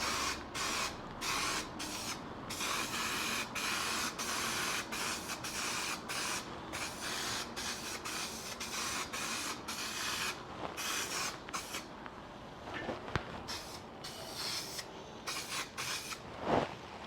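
A spray gun lays a light coat of primer on a panel of an MGB race car build: a long, loud hiss that cuts off briefly in a rapid on-off rhythm of passes, with no voices.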